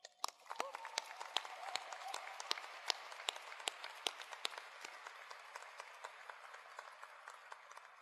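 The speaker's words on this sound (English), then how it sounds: "I'd like to give a round of applause for your families because they own these bars just as much as you do" A crowd at a joint military commissioning ceremony applauds the graduates' families, with dense, scattered clapping that swells quickly, then thins and fades gradually, the sharp individual claps standing out in a large hall.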